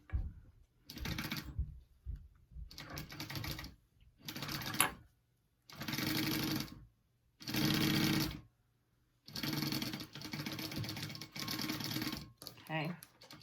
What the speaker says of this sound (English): I'm going to just top stitch that on there.